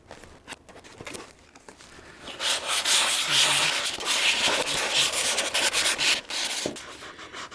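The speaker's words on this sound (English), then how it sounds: "I'm now going to use a sanding stick and very carefully sand these areas up here." Close, scratchy strokes of a sanding stick on a 1/100 scale model rocket rub back and forth in a steady rhythm, starting with light taps then building into continuous abrasive friction.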